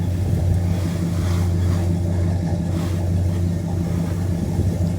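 The engine of a 1972 Ford Mustang convertible idles with a steady low rumble, a close and constant drone without revving, and no voices over it.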